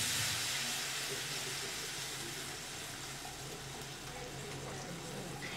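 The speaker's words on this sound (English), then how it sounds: "I'm going to just go ahead and drain off this juice" Juice draining off cooked short ribs during a fair cooking demonstration, a steady hissing, splashing pour that holds at an even level for several seconds with no talk over it.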